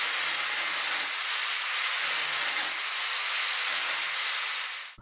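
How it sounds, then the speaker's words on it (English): Steady, loud abrasive hiss of a power sander working over welded metal joints on a homemade boxing machine, continuous for several seconds with slight shifts in pressure before cutting off. "Finally, I sanded the joints."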